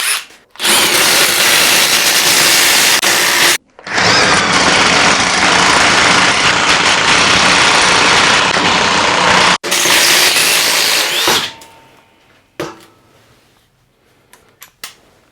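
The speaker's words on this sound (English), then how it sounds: "we got some drilling. So this is a 3/8 drill bit" A DeWalt XR cordless drill with a 3/8-inch bit runs at high speed in two long bursts, loud and close, with a brief pause between them, then winds down to quiet handling noises.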